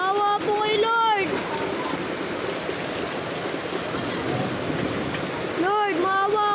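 Heavy rain pours down in a steady, dense roar, with a voice crying out briefly at the beginning and again near the end.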